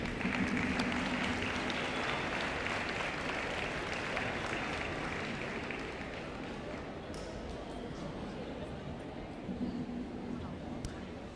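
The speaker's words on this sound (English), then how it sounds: "another round of applause, please" Applause fills a room at an athletics banquet honoring tennis players, steady clapping that gradually softens, with a faint voice and a few clinks near the end.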